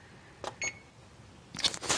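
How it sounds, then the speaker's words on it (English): A kitchen timer being set for a half hour, giving a few short quiet electronic beeps and clicks in two small bursts, close by in an otherwise still kitchen. "And set the timer for a half hour."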